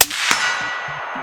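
Supersonic rifle round striking a steel target outdoors, a sharp initial crack followed by a loud metallic clang ringing out and slowly decaying, close and prominent with no talk.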